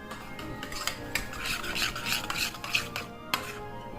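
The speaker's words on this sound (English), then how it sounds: "Stir that in." A spoon stirs chia seed pudding in a bowl, a close scraping, rubbing rhythm with occasional light clinks against the dish, steady and fairly quiet.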